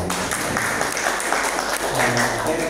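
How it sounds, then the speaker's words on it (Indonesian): A school gathering applauds together, a dense, steady wash of clapping from a room full of people, moderately loud and continuous, with faint voices mixed in. "Tepuk tangan untuk kita semua."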